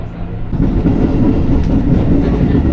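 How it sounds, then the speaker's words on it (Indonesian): A KRL commuter train runs on the rails toward Lempuyangan station, with a low, steady rumble and faint wheel clatter heard from inside. A sudden rise in loudness after half a second, and no speech. "sesaat lagi kereta akan tiba di stasiun Lempuyangan"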